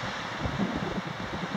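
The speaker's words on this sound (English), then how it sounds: "Really windy today. Probably about 30 miles an hour." Strong wind of about 30 miles an hour on a rocky mountain ridge in the Sandia Mountains, a dense continuous rushing roar with low buffeting thumps on the microphone, no talk.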